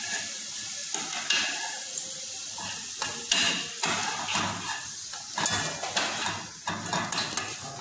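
Wooden spoon stirring potatoes and eggplant frying in plenty of oil, a steady crackling sizzle broken by repeated scraping and knocking strokes against the pan, fairly close.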